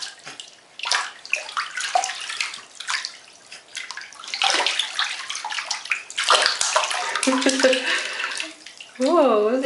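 A baby kicks and splashes in bathtub water, with irregular bursts of close, loud sloshing and splashes throughout, joined near the end by an adult's voice and a high, wavering baby vocalization.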